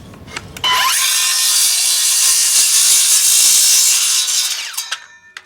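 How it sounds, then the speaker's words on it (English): A hand saw cuts through a block of beeswax with a steady, close, continuous rasp that lasts about four seconds, with brief rustling before and after. "take some of this sawdust that I just cut, kind of rub the bottom of my saw"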